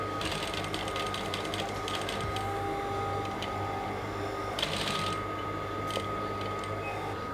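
A sewing machine stitches the middle seam of Aso Oke fabric for a round Yoruba cap, giving a steady mechanical whir with rapid needle chatter that runs throughout at an even, close-up level.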